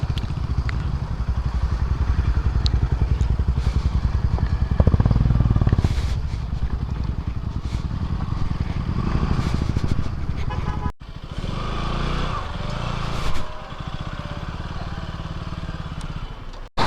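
A motorcycle rumbles and putters nearby, riding along then slowing near a waterfall parking area, with engine noise continuous and a sharp cut partway; voices talk intermittently over it.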